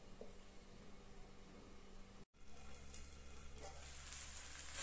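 Vegetables for Indian-style macaroni pasta frying in a pan, a steady close sizzle with stirring noises throughout, briefly cut off midway then resuming louder.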